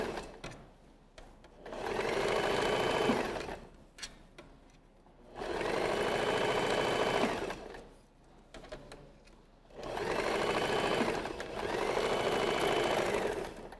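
A sewing machine stitches sleeves of stiff cotton linen fabric in three separate bursts of steady, fast mechanical whirring, each lasting a couple of seconds with quiet handling pauses between, close and alone.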